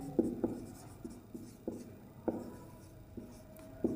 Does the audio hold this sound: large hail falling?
no